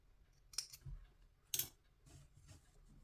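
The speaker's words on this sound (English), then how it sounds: "I will trim the seam allowance in half." Scissors trimming thread and a collar's seam allowance during sewing, two quiet separate snips about a second apart against near silence.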